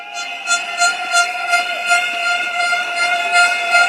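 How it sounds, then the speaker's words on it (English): Air horns blown by a crowd at an outdoor political rally in a stadium in Yishun, Singapore, a loud sustained chorus of overlapping blasts pulsing in waves with no talk. "Can I hear the air horns?"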